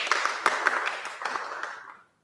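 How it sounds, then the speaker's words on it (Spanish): An audience claps for Inma: a short burst of scattered clapping from a small crowd, fading out after about two seconds. "Aplausos para Inma."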